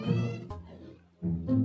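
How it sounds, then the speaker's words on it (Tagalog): A hungry cat meows twice, with a loud, close, drawn-out cry, a short pause, then a second rising meow, heard alone without talk. "Pati pusa ni Lola, gutom na din."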